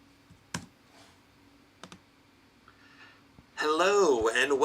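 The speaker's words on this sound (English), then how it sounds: "And this is me typing on the laptop keyboard." Sparse, faint keystrokes on a Lenovo Yoga 7i laptop keyboard, a few isolated clicks spread apart in a quiet room, followed by a burst of speech at the end.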